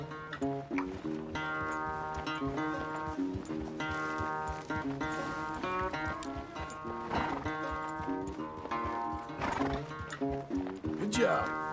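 In the Red Dead Redemption 2 video game, a horse neighs and its hooves clip-clop in a steady rhythm, heard with game music and someone talking over it.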